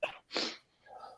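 A single loud, close sneeze bursts out, followed after a short pause by a softer, breathy trailing sound; no talk over it.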